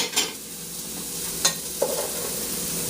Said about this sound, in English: carrots have been in for roughly about a minute, so now I'm going to start adding in the onion. Let that cook for a second.